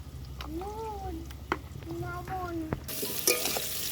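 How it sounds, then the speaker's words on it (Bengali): Potatoes fry in oil with a steady sizzle and stirring noises. Brief meow-like vocal sounds come early on, and a louder, brighter hiss swells near the end. "আলুগুলোকে লাল লাল করে ভেজে তুলে নিচ্ছি।"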